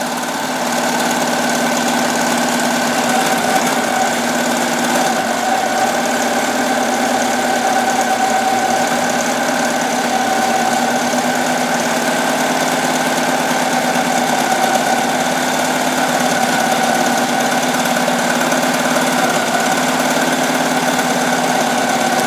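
An embroidery machine sews a double edge zigzag chenille stitch, giving a steady, loud mechanical drone with a constant whirring hum, unbroken and with no talk.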